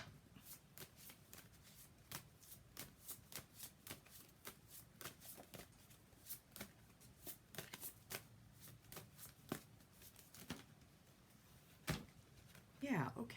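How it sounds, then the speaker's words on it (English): Tarot cards are shuffled and drawn near the mic in quick irregular riffles and soft slaps, with a few sharper card snaps and a louder flurry at the end, over a quiet room. "I'm going to pull maybe just a couple more cards"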